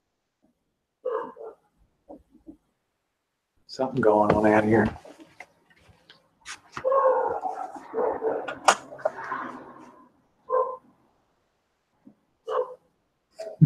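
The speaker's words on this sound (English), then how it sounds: "Did you hear that dog bark?" A dog barks outside on a quiet residential street at night, a few short barks sounding some distance away between stretches of a person talking.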